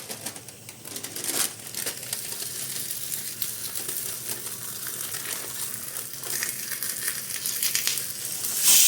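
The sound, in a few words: frying ghee bobbatlu (sweet flatbread) in a pan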